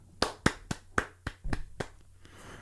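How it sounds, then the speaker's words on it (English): Several people in a podcast studio clap live: about eight sharp, distinct claps in an uneven rhythm, close and loud, then a quiet tail. "that was not canned clapping. That was live. Live applause."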